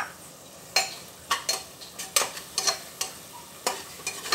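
Masala with chopped tomato frying in oil, stirred with a run of sharp, irregular spoon clacks and scrapes against the pan over a faint sizzle, close up and with no speech.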